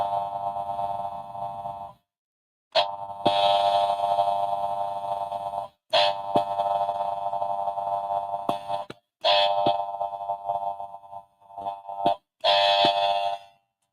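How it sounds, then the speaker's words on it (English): An electronic pond alarm sounds in loud, steady tonal bursts of a few seconds each, cut by short silent gaps, with no one talking. "And the alarm is going to sound like this."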